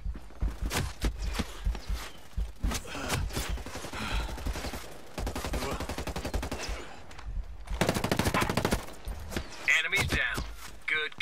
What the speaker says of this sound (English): Hostiles are shooting.